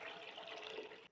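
Water is poured into a wok being readied for beef biryani, a continuous faint splashing rush lasting about a second before it stops abruptly, with no talk.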